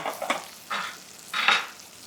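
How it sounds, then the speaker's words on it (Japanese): Potatoes pan-frying in butter beside skate wing fillets, with three soft sizzling bursts as they are stirred or turned in the pan, close and alone. "付け合わせのお芋を一緒に焼きます。"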